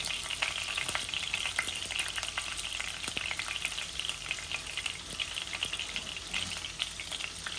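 Boal fish and dry spices fry in a pan with a steady, close sizzle and crackle that runs unbroken throughout, with small pops and spatters scattered across it.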